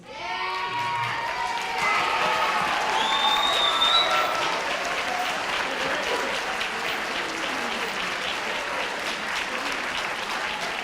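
Sustained audience applause for students standing after a school related arts show, a loud dense wash of clapping with some cheers and whoops early on, steady for the whole stretch.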